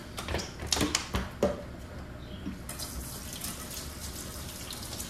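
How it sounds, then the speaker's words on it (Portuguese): Water runs from a kitchen tap as zucchini is washed under it, a soft steady stream with a few brief knocks and clatters of handling near the start. "Eu vou fazer a abobrinha também. Vou lavar bem ela."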